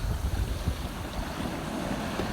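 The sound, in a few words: sea waves while sailing off Ikaria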